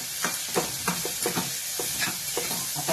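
Pea cutlet mixture being stirred in hot oil, a steady run of soft scraping strokes repeating about every third of a second over a continuous low sizzle, close and moderately quiet, with no voices.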